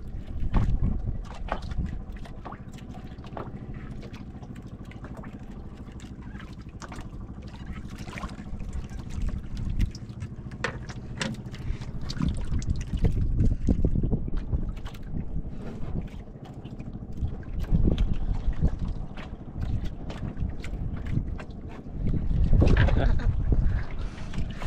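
Steady wind rushes and buffets across the microphone while out on a boat on open water, a continuous broadband roar with gusty swells and occasional thumps, no voices standing out.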